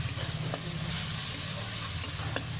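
Onion paste and turmeric frying in a pan for a Bengali fish curry, a steady close sizzle with soft stirring scrapes and a few faint clicks, no talking.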